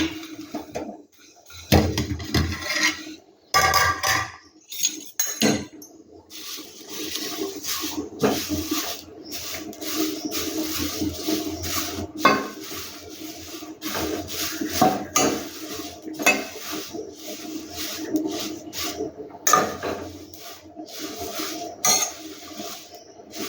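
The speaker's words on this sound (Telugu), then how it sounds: "తర్వాత చింతాకును కూడా లైట్గా ఫ్రై చేసుకుందాం" Dried tamarind leaves dry-roasted in a pan without oil: close, repeated scraping and clattering of a spatula against the pan in irregular bursts, with brief quiet gaps and no sizzle.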